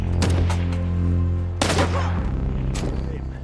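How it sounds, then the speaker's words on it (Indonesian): Heavy gunfire in an action film scene about sniper combat, dense repeated shots and booms crowding the whole stretch, loud and close, with bursts sharpening in the middle and near the end. "Di sini agen Memphis dan Isaac datang menolong dan berhasil menyingkirkan beberapa musuh, walaupun mereka juga terkena tembakan"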